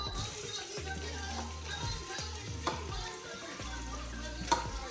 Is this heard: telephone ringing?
no